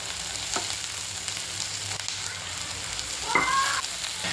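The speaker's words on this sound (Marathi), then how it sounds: "चांगला परतून झालाय। आता त्यात अर्धा टोमॅटो टाकते।" Onion and tomato sautéing in a pan for Malvani prawn masala, a soft, steady sizzle with a few faint scraping stirs and a brief clink near the end.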